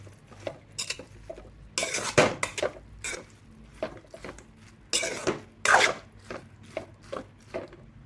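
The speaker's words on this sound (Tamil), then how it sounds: "ஸோ நல்லா எல்லா பக்கமுமே கலந்து விடுங்க." Kara idli is tossed with onion and tomato masala in a pan, with repeated scraping strokes and metallic clinks of a spoon against the pan in an irregular, close rhythm.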